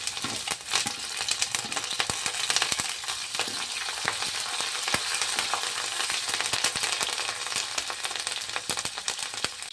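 Curry leaves, green chillies and chopped coriander stirred in a hot frying pan, a steady close crackling sizzle with scraping and clinking from the spoon throughout, no voices.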